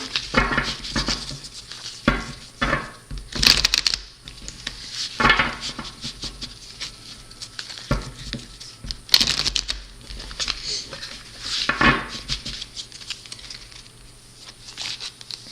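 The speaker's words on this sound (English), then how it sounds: "I'm going to be shuffling the cards and thinking of the energies for this week" Tarot cards being shuffled and handled, with soft riffling and tapping bursts repeating in irregular spurts, close to the microphone and fairly quiet.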